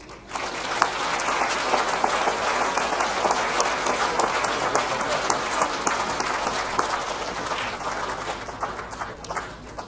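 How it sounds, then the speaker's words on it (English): Sustained audience applause at a thoroughbred racing awards ceremony honouring Hall of Fame inductees, a thick, continuous roar of many hands clapping that stays loud throughout, with faint voices mixed in. "once again, a collective round of applause for our Hall of Fame inductees tonight"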